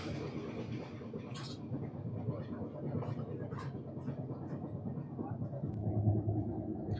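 The Korba Express, train 18518 from Visakhapatnam, rumbles steadily along the rails as heard from inside a coach, a continuous low clatter and hum with faint intermittent rattles throughout.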